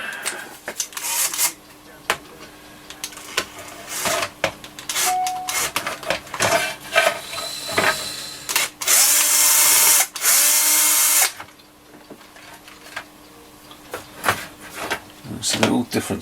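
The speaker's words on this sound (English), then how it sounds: "I'm going to pull this board. Just going to unscrew it with my screwdriver." A screwdriver works screws out of the circuit board of a Hoover UNP252A cordless vacuum, with scattered clicks, scrapes and rattles of small screws and plastic, plus a couple of longer loud rasping bursts, close by, with someone talking throughout.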